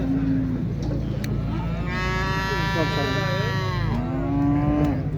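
A water buffalo calf at the Xaçmaz livestock market gives a long, drawn-out moo over the constant noise of the crowded market, with a second call rising near the end.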